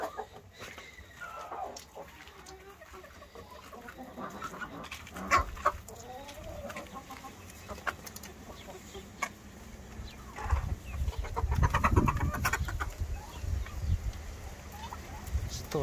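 Chickens and young chicks moved into a henhouse coop cluck and peep in scattered bursts at moderate distance, with rustling and occasional bumps, and the activity grows busier and louder toward the end.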